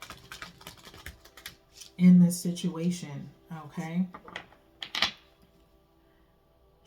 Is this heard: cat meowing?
no